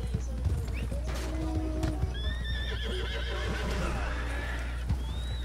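A horse in the video game Red Dead Redemption 2 whinnies with rising and falling neighs over a continuous clip-clop of hooves, close and moderately loud, with game ambience underneath.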